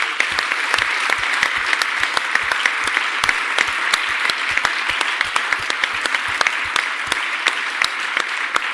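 An audience at the Area41 2018 conference closing ceremony applauds in a sustained, dense roll of many hands, with sharper individual claps popping out near the front.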